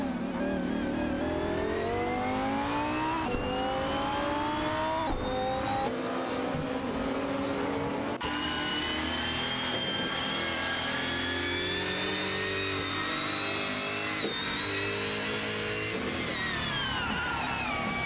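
GT3 race cars, including an Alpina B6 and a McLaren MP4-12C, scream past in a racing game with high, rising and shifting engine whines that overlap continuously and loudly.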